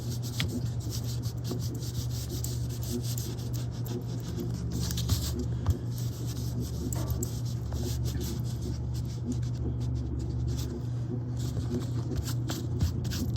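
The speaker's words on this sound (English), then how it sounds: "I'll take an eraser and erase my pencil line" Steady, continuous rubbing and scrubbing of an eraser erasing a pencil line, close up, with a low hum underneath and no talking.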